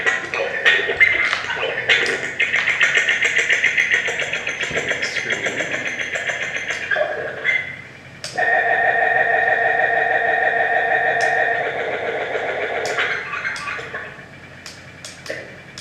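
A circuit-bent circuit board pulled from a Teletubby toy and boxed with added switches spews harsh, buzzy, glitchy electronic noise. The texture shifts abruptly partway through into steadier droning tones before fading.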